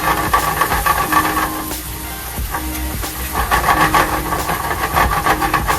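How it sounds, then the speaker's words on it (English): Bananas foster flambéing in a pan as the alcohol burns off, a steady loud hiss and roar of flame lasting throughout with slight swells and dips, no one talking over it. "And then we're going to get a little flambe"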